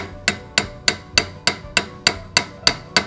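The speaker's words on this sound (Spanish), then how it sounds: "Vamos a usar un martillo de este tipo, de un lado martillo bolita." Ball-peen hammer striking a rivet held in a vise: ten sharp metallic blows at a steady, brisk rhythm, close and clear with short ringing decays and no talking.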